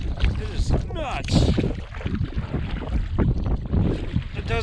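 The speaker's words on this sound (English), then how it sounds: "every time you hit this section of this lake, there's always like a wind block. It like pushes you." Strong gusty wind buffets the microphone on an open lake while canoeing, a constant loud rumble with water sounds, as a person talks over it throughout.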